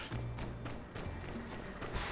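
Horse hooves clip-clop in My Time at Sandrock, a steady rhythmic patter of steps running under light game music and background noise.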